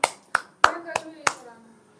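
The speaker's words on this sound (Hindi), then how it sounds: "अपने लिए तालियां बजा लीजिए" Five sharp, distinct hand claps at an uneven rhythm, close and crisp in a quiet room during a yoga session at an ashram, each one fading quickly before the next.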